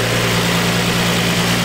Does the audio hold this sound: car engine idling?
yes